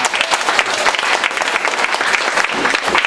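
A public speaking contest audience breaks into loud, dense applause, close and continuous clapping from a crowd filling the whole stretch without any voices.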